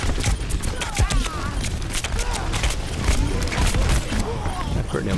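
Rapid gunfire from Reaper in Overwatch on the Ilios map crackles in dense bursts amid game effects and music, with a player talking over the action.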